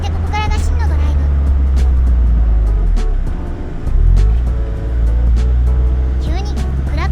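Open-top car driving along a coastal road in the Seto Inland Sea area in summer, a steady low engine and road rumble with wind running throughout, rising briefly near the middle, while a person talks over it.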